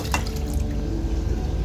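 Ragi flour stirred into water is poured into a pot of boiling water for a vegetable soup, giving a short, close liquid splash over a low steady bubbling rumble.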